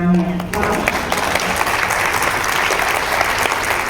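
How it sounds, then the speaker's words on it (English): A crowd applauds at a legal boot camp stage event, with dense, steady clapping that swells and holds loud throughout, a brief voice audible at the very start. "let's give them a nice big round of applause"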